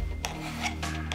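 Ice climbing tool pick being sharpened by hand filing, a short series of rasping strokes, about four spaced bursts close up against a steady low hum.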